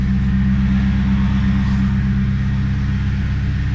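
Close and loud, the engine of a manual Holden SS Commodore idles with a deep, steady rumble as the car eases into reverse, unbroken throughout.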